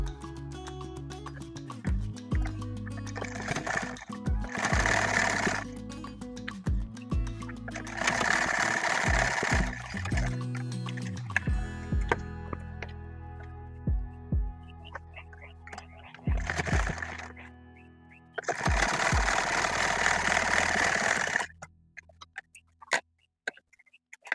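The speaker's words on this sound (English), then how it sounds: "place our lining fabric right sides together and then sew at both sides" A sewing machine stitches the sides of tote bag lining fabric in several bursts of fast, rhythmic running. Each burst is separated by pauses with clicks and handling noises, heard close up with no talking.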